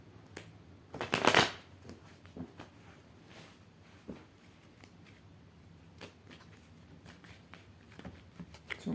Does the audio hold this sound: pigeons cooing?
no